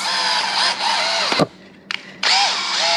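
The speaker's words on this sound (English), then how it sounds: "I'm attaching with 1 1/4 inch pocket hole screws" Power drill driving 1 1/4 inch pocket hole screws into a wooden pantry cabinet, a loud close whine that rises and falls, stops briefly with a couple of short blips, then runs again.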